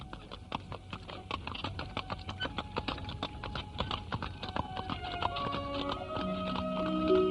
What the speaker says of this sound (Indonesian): Kereta kuda yang ditumpangi Arya Dwi Pangga dan Narirati